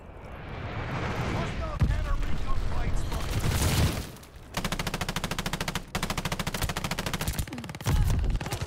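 Rapid aircraft strafing fire in a video game, long bursts of dense machine-gun rounds rattling loudly in several stretches with brief gaps between them, amid booming battle noise.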